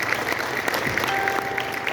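Audience applause at a Marathi felicitation for a man who moved from a successful Indian Army career to a new police role, given in honour of his father: dense steady clapping across the hall, with a faint voice over it.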